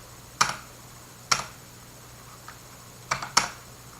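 Sparse, sharp clicks from a computer keyboard as a DNS server address is entered on Windows Server 2019, each tap distinct and close with quiet gaps between, over a faint steady hum.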